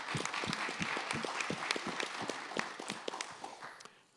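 A small crowd at a public community meeting in Edmundston gives a short round of applause, with scattered, fairly sparse claps close by that fade out after about four seconds.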